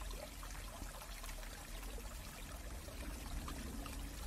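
Steady flowing water, a continuous close trickling and pouring stream with an even, unbroken wash of sound and no voices.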